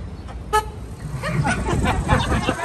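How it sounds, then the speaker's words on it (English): Loud boat horn on the San Antonio River sounding in a sustained blast after a short tonal blip, with chatter and ambient noise around it. "This is a boat horn meant to signal other boats."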